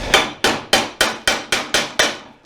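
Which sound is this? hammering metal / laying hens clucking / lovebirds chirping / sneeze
hammering metal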